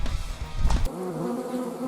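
A buzzing wasp sound effect: a steady, close, droning insect hum that sets in about halfway through and holds on to the end, heard alone with no talk.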